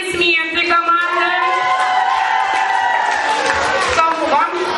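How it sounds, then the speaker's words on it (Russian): Crowd of children cheering and applauding a team at a camp quiz-football game, loud and continuous with shouts rising over steady clapping throughout. "Аплодисменты, команда!"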